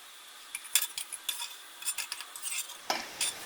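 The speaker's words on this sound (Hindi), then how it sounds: "ऐसे कड़छी पे होल्ड करके रखेंगे ताकि एक्स्ट्रा ऑयल इनका निकल जाए।" Fried pakoras lifted and held on a metal ladle over hot oil to drain, with soft clinks and scrapes of metal on a pan against a faint sizzle, close and unhurried.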